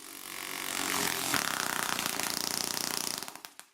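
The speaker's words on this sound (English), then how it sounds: "the sandpaper in my homemade drum sander unstuck, and I got frightened" A homemade woodworking drum sander spins as its sandpaper comes unstuck, giving a loud buzzing, flapping roar that turns into a rapid regular slapping before it winds down and stops.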